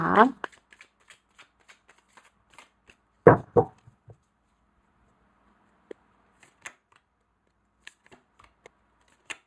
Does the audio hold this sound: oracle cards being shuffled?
yes